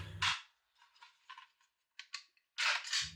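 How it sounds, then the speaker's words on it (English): A rifle with an empty magazine inserted is charged, giving a few sharp, close metallic clacks and small clicks separated by near silence in a quiet room. "Next, insert an empty magazine, then charge the weapon."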